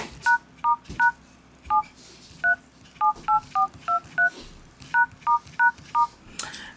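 Sony Xperia Arc S LT18 keypad beeping out a service-menu code: about seventeen short, clear two-tone dial beeps in uneven bursts, close and loud over a faint background hum.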